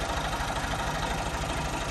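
A tractor engine idles nearby with a steady, loud, rough rumble and a faint knocking texture, continuous throughout with no talking.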